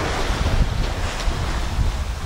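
Steady roar of 30-knot wind buffeting the microphone over rushing, choppy sea water against the current while sailing, continuous and loud with no voices.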